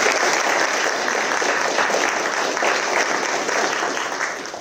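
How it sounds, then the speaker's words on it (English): An audience applauds to welcome lecturer John Hyland at an academic talk on Achaemenid victories, a steady, dense patter of many hands clapping close by that holds for several seconds, then begins to thin and fade at the end. "I'd ask everyone to join me in welcoming John Hyland"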